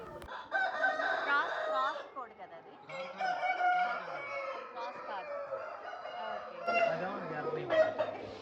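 An Erra Nemali fighting rooster crows repeatedly at close range in a breeding yard, several long strained crows separated by short gaps, with clucking and other birds faintly around and a voice briefly in the background.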